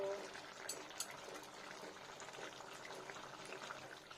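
Liquid is poured into a vegetarian raw banana kofta curry in a pan, a soft gurgling splash with faint bubbling, quiet and close, with a few light clinks near the start.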